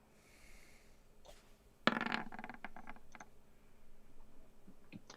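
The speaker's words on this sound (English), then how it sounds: "roll a d20." A d20 die rolls during a Dungeons & Dragons session: a sudden sharp clatter, then a short run of rattling clicks as it settles, fairly quiet against faint background noise, with no talking.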